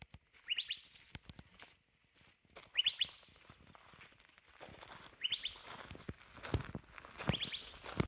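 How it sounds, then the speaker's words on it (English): Quiet outdoor scene on a wildflower hiking trail at Table Top Mountain with several short, high bird calls repeating every couple of seconds, faint and a little distant, with soft rustling and steps. "If you listen closely, you can hear sound of some animal, which I'm assuming is a bird."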